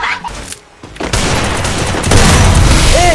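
Bursts of gunfire in an online multiplayer shooter game, with loud rapid shots and booms that start after a brief quieter moment and keep going, dense and close.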